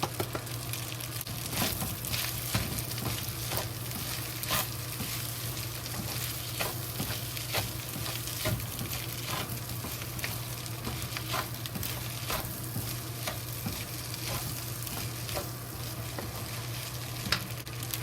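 Bacon fried rice sizzling steadily in a pot, a continuous close frying hiss with scattered pops and occasional stirring scrapes running throughout, no voices.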